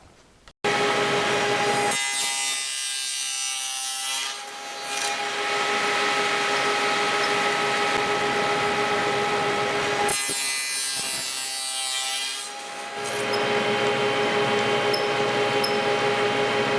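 A loud, steady power saw grinds through wood in two long continuous cuts for a small storage box, with a harsh whining rasp and brief pauses between passes.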